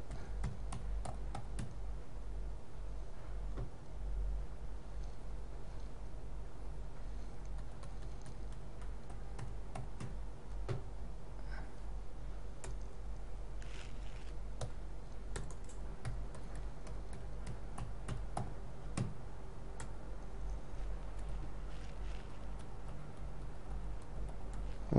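A password is typed on a computer keyboard at close range, giving quiet, irregular clicking keystrokes that continue steadily over a low background hum, with no one talking.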